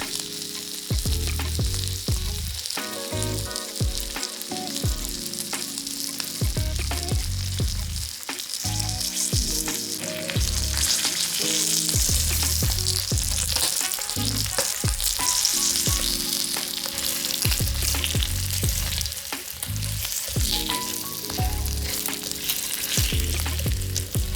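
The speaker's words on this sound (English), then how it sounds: "And in goes the guanciale. We saute it in thick slices because it's easier to obtain a more homogeneous cook." Thick slices of guanciale sauteing in a pan for amatriciana, a loud, continuous crackling sizzle with frequent bursts of spitting fat and the occasional stir scraping through, close and unbroken throughout.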